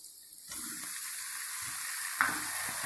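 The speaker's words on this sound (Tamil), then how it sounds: "வெங்காயம் நல்லா வணங்கிருச்சு. அடுத்து தக்காளி சேர்த்துக்கலாம்." Onions frying in a pan as tomato is added for a field-crab gravy, a steady close hiss of sizzling oil starting after a brief quiet moment, with a louder burst partway through and soft stirring scrapes, no talking.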